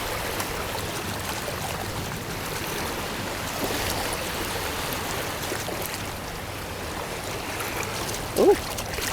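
Water on the River Thames washes steadily over a milk bottle being rinsed at the shore, a continuous, fairly close rushing, with a brief louder splash near the end.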